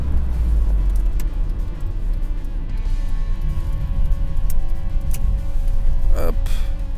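A 1984 VW Golf 1 Cabriolet Karmann drives along with a steady, loud engine and road rumble throughout. A short rising whine is audible near the end.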